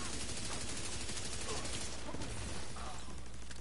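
Video game gunfire rattles in rapid, overlapping bursts, a dense continuous barrage of shots that stays loud throughout, mixed with a busy wash of game noise and no clear pauses.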